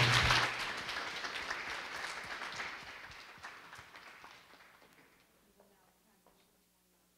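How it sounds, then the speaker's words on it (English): Round of applause for a student group at a university showcase of accessibility projects, brisk clapping from a small audience that is loudest at the start and fades to scattered claps and near quiet. "please give this group a round of applause"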